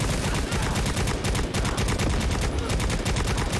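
Rapid, dense gunfire from Necromunda: Hired Gun, a first-person shooter, with sharp shots pounding in a steady, loud stream for the whole stretch and no talk over it.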